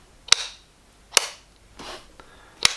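A Belkin four-socket surge strip's switch clicks four times in sharp, close, separate snaps with short pauses between them.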